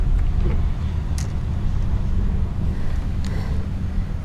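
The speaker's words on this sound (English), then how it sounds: "It is super windy" Strong wind over a lake buffets and rumbles steadily throughout, a constant low roar with faint rustling, heavy and close.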